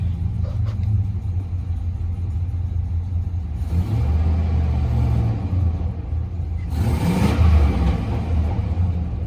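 A GMC 2500 pickup with a 6.0 engine idles roughly with a lopey, uneven beat, giving a steady, close, continuous low rumble that swells briefly near the end.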